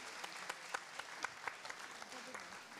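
Audience applause at the Tranche Commune Entente lottery draw in Benin, 2024, a steady dense clapping from a crowd that fills the whole moment, with sharper claps standing out now and then.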